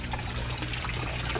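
An aquarium air pump aerates water in a koi tank, making close, continuous bubbling and gurgling with no talk.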